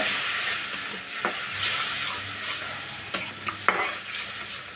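Spice paste with ginger-garlic paste and a splash of water being fried and stirred in a pan for a Bengali curry, a steady hiss with scattered scraping clicks from the spoon.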